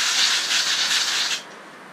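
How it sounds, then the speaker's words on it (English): Compressed air blasts dust out of the cooling vapor tubes inside a Lenovo T61 ThinkPad laptop, making a loud steady hiss with a little rustle for over a second before it cuts off sharply. "let's just give it a little compressed air here."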